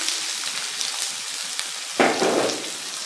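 Long-sliced onion fries in a pan for an aloo pyaz sabzi, a close, steady sizzle that flares into a louder hissing burst with a scraping stir partway through.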